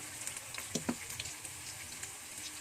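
Onion and sardines fry in a pan with a steady soft sizzle, plus a few light clinks of stirring, heard alone at moderate volume.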